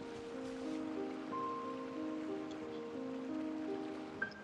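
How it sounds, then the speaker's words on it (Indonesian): Steady rain falls in the Genshin Impact game world, a soft continuous patter that sits under sustained musical tones throughout, with no talking. "Lagi hujan."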